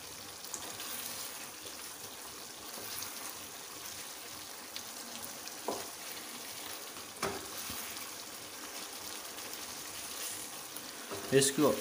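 Green chillies fry in a chicken karahi, a soft, steady sizzle with occasional stirring clinks, close but fairly quiet, ending with a few louder scrapes.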